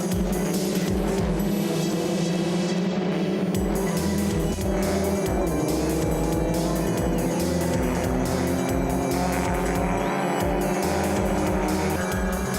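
Racing cars on a circuit, including a Ray and a Van Diemen, roar loud and close through a corner, engine notes rising and falling continuously as a pack passes with no talk.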